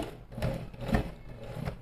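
A sewing machine backstitches in a few short, soft thumping strokes, three or four of them spaced evenly over under two seconds. The sound is quiet and close.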